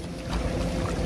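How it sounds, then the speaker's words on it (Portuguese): A motorboat runs on the water at a beach, giving a close, rough rush of water and engine noise mixed with buffeting wind. "Ô, Jagus, quase virou a lancha, viado."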